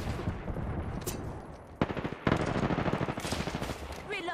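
Knuckle cluster weapon firing at a target in a video game, rapid machine-gun-like bursts of gunfire with sharp onset, loud repeated shots in quick rhythm over game ambience.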